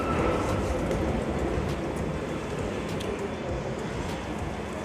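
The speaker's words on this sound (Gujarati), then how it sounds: "ટ્રેન ઊભી જ છે" A London Underground Bakerloo line train stands at a platform, giving a steady mechanical hum and broadband station rumble with occasional faint clicks, fairly close and continuous.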